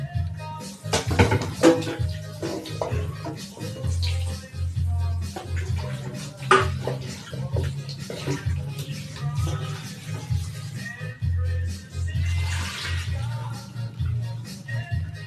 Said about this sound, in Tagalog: hugasan ko lang itong ano, itong chicken feet